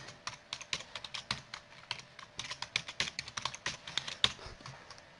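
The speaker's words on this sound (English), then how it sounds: "So let's give James Jones a password." A password is typed on a computer keyboard, heard as quick, close, clicky keystrokes in a steady irregular stream, with no voices.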